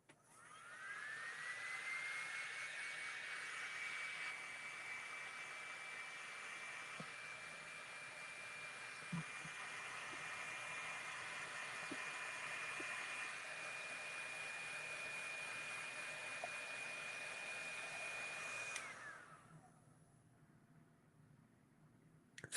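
A hair dryer drying paint runs as a steady, loud, high whir for about nineteen seconds, then cuts off, leaving a quieter room.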